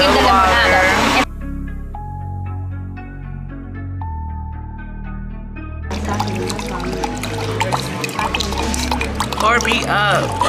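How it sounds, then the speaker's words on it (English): A drink is poured into a glass, with liquid splashing and dripping amid lively talk, and soft music plays during a quieter stretch. "Pour me up, okay?"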